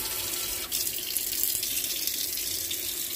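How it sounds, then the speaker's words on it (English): A bud vase rinsed under a running tap: a steady, close rush of water that splashes briefly near the start, with no talking. "And rinse the bud vase."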